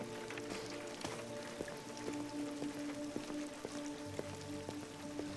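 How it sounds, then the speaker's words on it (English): Soft rain falling in a garden in the video game Detroit: Become Human, a faint, steady patter of scattered drops over a quiet background hum, with no voices. "And now it's raining."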